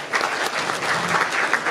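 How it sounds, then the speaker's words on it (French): An audience claps together for a deputy mayor at a Malian diaspora gathering, a short loud burst of dense, even applause. "Applaudissez pour elle, s'il vous plaît."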